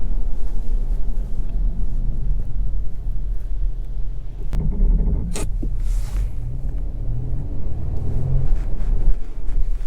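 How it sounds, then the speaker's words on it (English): A 2022 Acura MDX A-Spec AWD rolls along a back road, heard from inside as a steady low rumble of engine and tire noise with a few brief thumps and bumps over the surface. "we're going to go ahead and hit the back road to see how the MDX A-Spec does"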